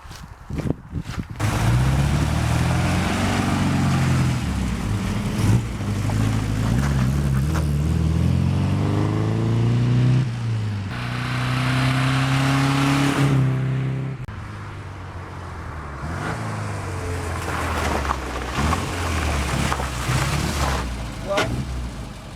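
A Frogeye Sprite with a swapped engine drives along, its engine droning and rising in pitch as it accelerates, with wind and road noise around it, while people talk intermittently inside.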